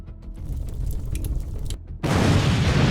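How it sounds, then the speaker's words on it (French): A vehicle struck by a drone explodes and catches fire during a Russian tank attack; a heavy boom cuts in abruptly and swells into a loud, sustained roar of blast and burning over low rumbling. "La première explosion enflamme le véhicule."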